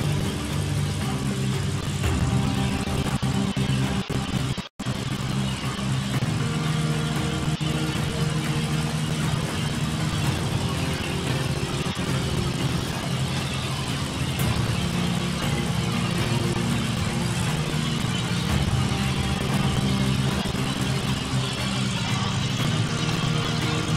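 A vehicle driven in the video game Gold Rush, its engine humming steadily and loud throughout, with a brief cut of silence near the start before the drone resumes unchanged.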